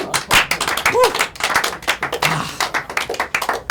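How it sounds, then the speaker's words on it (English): Audience applause at a mentalism stage show, a burst of hand clapping with loud individual claps mixed among the crowd, close and lively, with talk over the top. "Give them all a round of applause"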